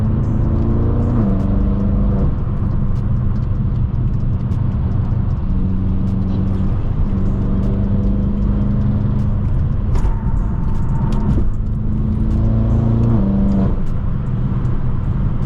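A tuned 800-horsepower BMW M6 revs in New York City traffic on the FDR, heard loud and close from inside. The engine note climbs and drops again and again with no voices.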